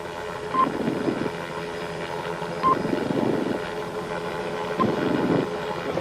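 A police helicopter's steady rotor drone fills the air continuously, with a few faint beeps cutting through now and then; no one speaks.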